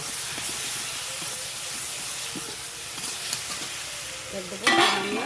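Ginger with turmeric and chili powder fried in a pan, a steady close sizzle with repeated spoon scrapes and stirs and a sharper burst of hiss near the end, without speech.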